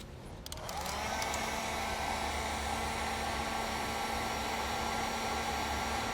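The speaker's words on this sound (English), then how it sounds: "what I'm going to do is come in with a heat gun and shrink those ends." A heat gun shrinks heat shrink butt connectors on a custom brake controller wiring harness. It switches on about half a second in, then gives a steady, loud, continuous blowing roar with a faint hum, and no one speaks.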